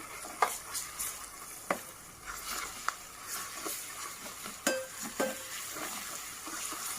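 A spoon scrapes and stirs garam masala and coriander powder into mutton for a pickle, with sharp clinks against the pan at irregular moments over a steady, soft sizzle.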